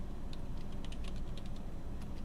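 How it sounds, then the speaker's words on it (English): Quick, irregular keystrokes on a computer keyboard as text is entered in Photoshop CS6, a close, steady patter of small clicks over a low room hum with no talking. "And now I'm going to type"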